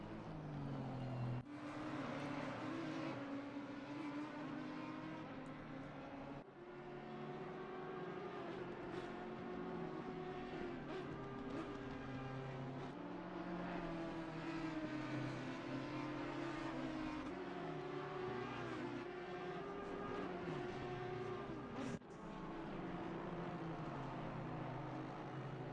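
Race cars at Oulton Park in the video game Assetto Corsa Competizione, a steady engine drone with rising and falling pitch as cars pass, continuous and fairly loud throughout.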